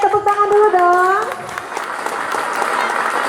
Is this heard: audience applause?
yes